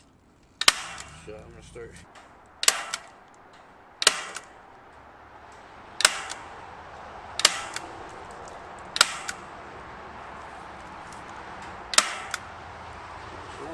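A staple gun fires staples one at a time through wire into a wooden rabbit hutch, giving about eight sharp, loud snaps spaced roughly every one to two seconds over a low hum. Someone briefly speaks near the start.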